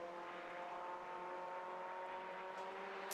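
Race cars circle the Brands Hatch Indy circuit during a Fun Cup endurance race, a sustained engine drone holding steady at a moderate distance with no pauses.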